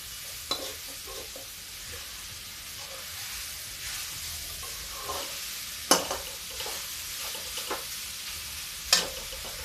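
Grated pumpkin roasted in ghee for fasting barfi, with a quiet continuous sizzle broken by occasional spatula scrapes and taps in the pan, heard at close range and fairly soft.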